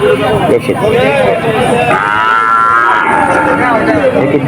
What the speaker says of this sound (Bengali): গরু পরীক্ষা হচ্ছে